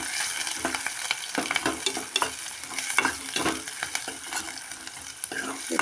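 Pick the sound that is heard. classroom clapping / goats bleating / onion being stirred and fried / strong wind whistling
onion being stirred and fried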